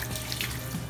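A garden hose sprays water onto plants and leaves outdoors, a steady close hiss of rushing, splattering water with no voices.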